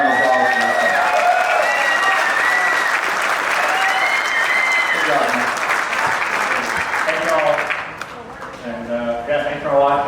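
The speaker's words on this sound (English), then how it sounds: "Another round of applause for that." Crowd applause at the weigh-in of a Lake Fork spring bass fishing tournament in Texas, rising as the winner is handed his trophy, with talk and cheering mixed in before it tapers toward the end.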